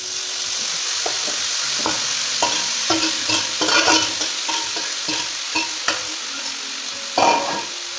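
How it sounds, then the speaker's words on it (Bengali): Eggplant stir-fries in a wok, a loud, constant sizzle punctuated by frequent spatula scrapes and knocks against the metal, some sharper bursts standing out near the end. "ভাজা হয়ে গেছে, এখন বেগুন দিয়ে দেবো।"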